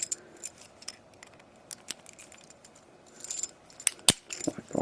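Metal keys jangle and click against a Corbin-Russwin interchangeable core fitted in a generic padlock, scattered light rattles building to sharper clinks near the end, close and fairly quiet.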